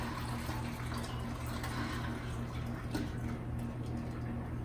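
Cooking water poured off boiled beans, a steady, fairly faint stream of trickling and splashing liquid running throughout, with no voices.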